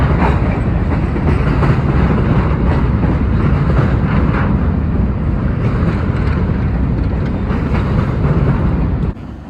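A BNSF freight train led by an anniversary-unit locomotive rolls past close by, a loud, steady roar of wheels and rail noise with wind buffeting, dropping off sharply near the end.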